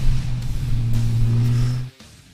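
A 2016 Kawasaki ZX-10R sport motorcycle engine drones loud and close as it pulls hard under acceleration with a quickshifter, then cuts off sharply near the end.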